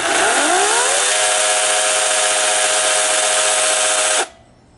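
Toro PowerPlex 14-inch battery chainsaw running at full speed during a final test, a loud steady whirring whine that ramps up briefly, holds for about four seconds, then cuts off abruptly.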